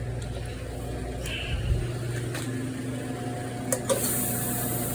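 A heavy floor scrubbing machine runs during a floor strip-and-wax job, giving a steady, fairly quiet motor hum with a few faint clicks and knocks.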